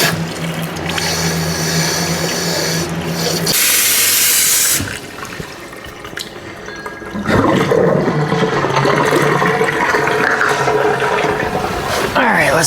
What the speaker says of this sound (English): Ready to turn the water on.